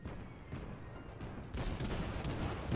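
Naval guns firing from the German cruiser Kolberg in World of Warships, a steady mix of gunfire and booming shots that turns louder and denser halfway through, with no pause in the noise.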